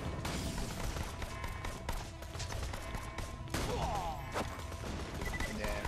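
Gunfire in Borderlands: The Pre-Sequel, repeated sharp shots and impacts in an irregular busy stream over game music and effects, moderately loud throughout.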